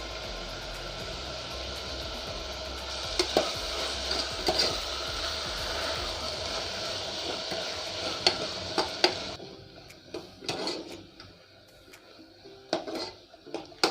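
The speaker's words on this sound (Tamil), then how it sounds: "பாருங்க எல்லாமே நல்லா ஃப்ரை ஆயிடுச்சு." Ingredients are stirred and fried in a pan, a moderate sizzle with spoon scrapes and clinks that drops to quieter, intermittent stirring knocks partway through.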